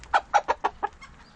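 Five quick clucks from a chicken, close and fairly loud, spaced evenly over about a second with no voices.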